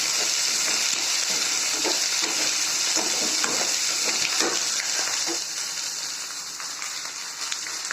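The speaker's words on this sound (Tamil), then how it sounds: "இப்போ கீரையை போட்டு அப்படியே வதக்கிடணும்" Drumstick leaves sauté with onion in a pan, a steady close sizzle broken by scraping stirs and soft clinks throughout, with the frying easing slightly toward the end and no one speaking.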